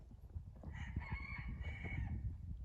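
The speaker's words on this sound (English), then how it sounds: "That rooster." Rooster crowing outdoors on a cold farm, one drawn-out cock-a-doodle-doo, faint and somewhat distant, over low rumbling background noise.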